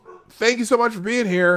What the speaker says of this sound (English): even Clifford says goodbye if you heard him barking in the background